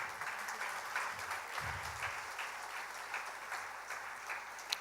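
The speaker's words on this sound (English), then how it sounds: "So probably we need a little bit bigger applause than what we are here now" Sustained applause from an audience at a school's founder's day honoring the principal, a thick continuous patter of many hands, fairly steady and moderately loud, with one sharper clap near the end.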